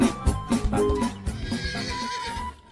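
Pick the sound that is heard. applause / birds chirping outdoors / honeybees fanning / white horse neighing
white horse neighing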